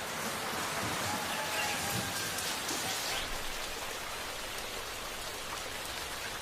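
Heavy monsoon rain pours down in India, a dense, steady roar of drops hitting surfaces that stays loud and unbroken throughout, with no voices.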